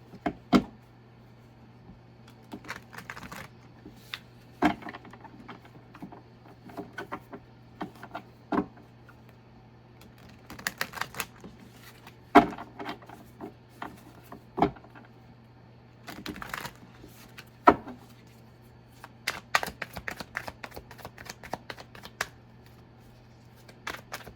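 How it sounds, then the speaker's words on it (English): Intermittent riffling and sharp snaps of a tarot deck being shuffled, quick bursts separated by short pauses, close by over a low steady hum. "get started by shuffling the deck"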